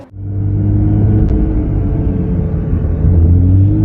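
A Porsche 992 GT3 on track gives a steady, loud engine rumble that holds evenly and then swells slightly near the end, with no talking.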